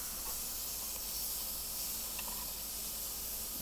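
Pork chops sizzle on a lidded grill over medium heat, a steady, even hiss that runs unbroken at moderate volume with no voices over it.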